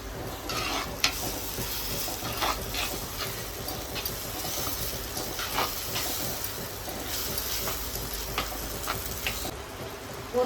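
Ground tomato and onions sautéing in a pan for a prawn kuzhambu, giving a steady soft sizzle with faint stirring scrapes and no talk.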